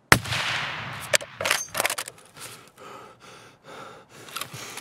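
A sharp, loud gunshot in the survival shooter Escape from Tarkov, followed by a few more cracking shots and a quieter, fading tail of ambient noise.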